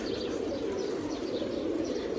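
Senior pigeons housed under a tin roof coo steadily and continuously, a dense low throbbing chorus close by with no talk.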